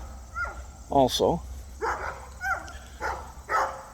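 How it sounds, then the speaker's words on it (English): Neighbor's puppies barking and yipping outdoors during a hike, several short bursts at moderate distance with someone talking over them. "There's the other neighbor's puppy dogs, which I say hi to"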